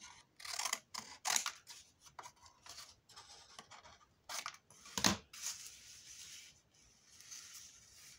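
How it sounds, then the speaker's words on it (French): Scissors cut away excess paper while making a vintage mini album, a series of crisp close snips and rustling paper scrapes in irregular bursts at low volume, with no talking. "Vous coupez bien le surplus."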